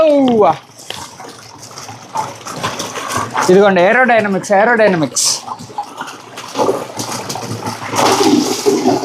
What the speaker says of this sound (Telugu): ఇప్పుడు ఈ బోర్ వాటర్ని కూడా ఇందులో పోసేద్దాం.